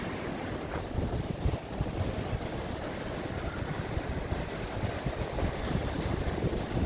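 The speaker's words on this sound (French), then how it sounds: "je vous présente l'Allier à hauteur de Langogne, une rivière remplie de truites et d'ombres communes" The Allier river at Langogne, a small trout and grayling stream about four metres wide, flowing beneath a bridge as a constant close rushing roar heavily mixed with wind buffeting the microphone, with no voices.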